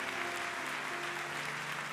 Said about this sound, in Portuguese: Se você tem, pode aplaudir ao Senhor.